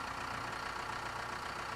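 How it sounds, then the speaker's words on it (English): The engine of a Dresser TD crawler tractor idles after startup, a steady, close, even rumble that holds without change. "Let the engine idle for at least 2 minutes to warm it up."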